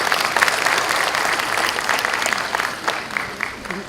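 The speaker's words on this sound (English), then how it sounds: "Have a big round of applause for sir." An audience at an international conference breaks into a big round of applause for an honoured guest, dense steady clapping from many hands that thins slightly toward the end.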